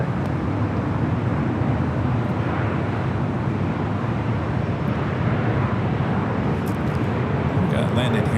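A Delta airliner rolls for takeoff on runway 24 left at LAX, a continuous loud broadband jet roar sustained throughout, with faint radio-style chatter mixed beneath it.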